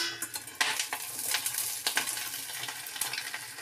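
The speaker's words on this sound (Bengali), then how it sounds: "এবার এগুলোকে আমি এক এক করে ভেজে নেব।" Egg balls fry one by one in hot oil in a wok, giving a continuous close crackling sizzle with a few sharper pops and light utensil touches, and no voices.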